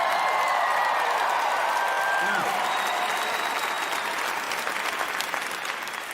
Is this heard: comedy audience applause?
yes